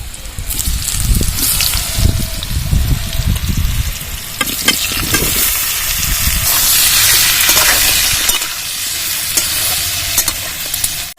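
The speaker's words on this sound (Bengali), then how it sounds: "সেদ্ধ এঁচড়গুলো তেলে ছেড়ে দেবো" Boiled green jackfruit pieces frying and being stirred in hot oil in a pan, a loud, steady sizzle with scraping stir strokes throughout, close up and with no talk.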